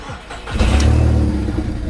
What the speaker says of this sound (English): you can hear the exhaust is pretty much dumping from down there